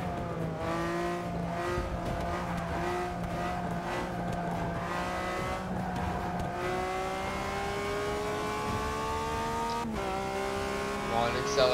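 A race car in Forza Motorsport 6 accelerates through repeated gear changes, the engine note climbing and dropping in steps with occasional tire squeal, steady and close, while someone talks over it.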